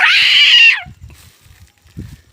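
A cat fighting a cobra lets out one loud, drawn-out yowl that cuts off sharply, followed by faint low rustling and scuffling.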